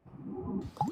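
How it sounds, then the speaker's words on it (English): A brief, quiet wet squish and plop of scones dunked into a cup of Nescafe coffee, up close and lasting about a second. "That sound you're hearing is Mum Joyce dunking scones into a cup of smooth Nescafe coffee."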